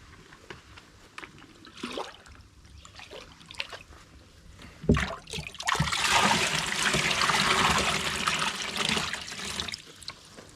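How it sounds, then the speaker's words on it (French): Water is poured into a tub holding koi carp, starting with a few light splashes and trickles before swelling into a steady, close gushing pour that runs for several seconds and then tapers off. "Donc là on va rajouter 5 litres d'eau."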